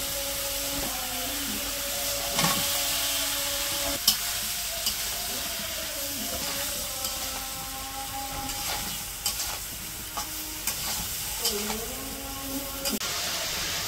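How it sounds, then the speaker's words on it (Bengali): Spices sizzling and being stirred in hot oil for a village-style cauliflower curry, a steady close frying hiss with periodic scraping and clattering strokes of a spoon against the pan, no talk. "সব মশলা দিয়ে কষাইতেছে, তারপর সবজি দিব"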